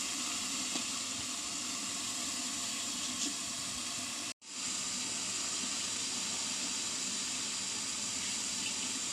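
Stuffed squid steams in an idli pot on the stove, giving a soft, continuous hiss of steam at low volume with a brief dropout midway.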